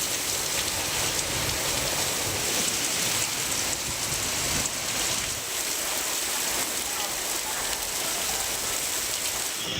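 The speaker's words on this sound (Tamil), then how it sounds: "சூறை காற்றுடன் 1 மணி நேரத்திற்கும் மேலாக கனமழை பெய்தது" Heavy rain with strong wind in Chennai: a dense, continuous roar of rainfall at steady loudness from start to end, with no breaks.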